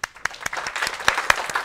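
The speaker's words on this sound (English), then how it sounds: "I realize you can't see the people applauding for you." A small audience claps after a database systems lecture, scattered uneven hand claps at moderate loudness filling a short stretch, with no voices over them.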